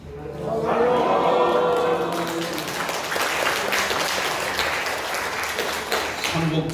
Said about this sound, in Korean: 삼복더위에 건강 지켜주시는 하나님께 우리 영광의 박수 한번 드립니다